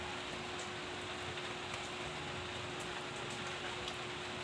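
Steady rain falls continuously on a surface during a rainy spell, a dense even hiss with faint scattered drops, moderately quiet and unbroken throughout.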